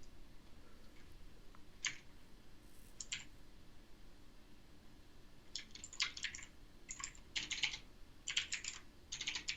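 Typing on a computer keyboard during a programming lecture, quick bursts of clicking keystrokes separated by pauses, growing more frequent toward the end, fairly close and moderately quiet with no speech.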